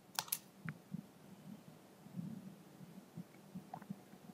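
A command is typed on a computer keyboard, with soft, close key taps in an uneven rhythm against a faint hum.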